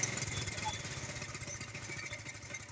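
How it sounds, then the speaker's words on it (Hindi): A motorcycle engine chugs in a steady low, rapid pulse while someone tries to get it started, heard close and continuous for a few seconds with voices around it. "मोटरसाइकिल स्टार्ट होता नहीं"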